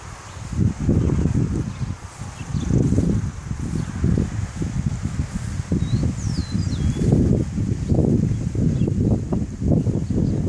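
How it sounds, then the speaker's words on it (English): Wind gusting through a garden of bearded and Siberian iris, a continuous loud, rumbling rush that swells and eases in waves, with faint rustling and a brief bird chirp above it. "we're having some wind, as you can tell today"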